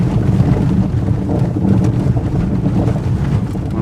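Strong wind buffets and roars steadily across the microphone near a fire behind a market, a dense low rumble with no voices.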